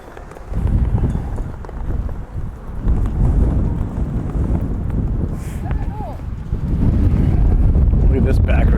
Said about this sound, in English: A little breezy though